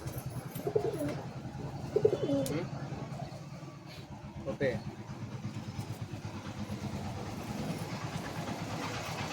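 Pigeons in a loft cooing softly and repeatedly through a steady rumbling background of passing traffic, while someone talks over them.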